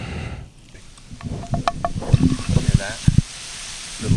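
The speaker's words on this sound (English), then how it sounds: "Little sizzle, little mushroom sizzling going on there." Soft sizzling of mushrooms frying in a pan, with scattered clicks and stirring scrapes, moderately close.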